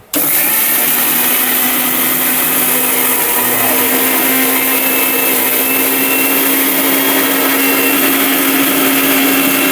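A Miyako blender grinding dry cumin and spices, starting suddenly and then running as a loud, steady motor whine with a constant hum and a grinding rattle, nearby and without talk.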